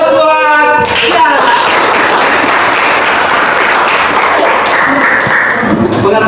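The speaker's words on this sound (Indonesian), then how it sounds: "Oke, aplaus buat Kia" A classroom bursts into loud, dense applause and clapping that fills the room after a brief spoken line, continuing steadily for several seconds with occasional voices underneath.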